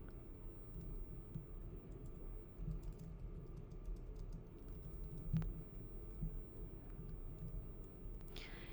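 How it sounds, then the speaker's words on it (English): Steady typing on a computer keyboard, faint and continuous with soft clustered key clicks over a quiet room background. "Another way I can do this is to type something like this."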